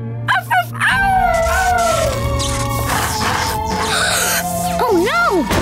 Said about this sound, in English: Keep howling, Rubble.